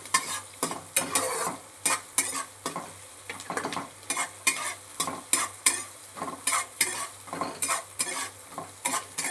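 Vegetables with onion and garlic stirred in a pan over the gas, a close, rhythmic series of spatula scrapes and clinks against the metal over a low sizzle, repeating steadily throughout.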